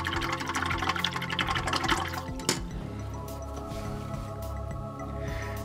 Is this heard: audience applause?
no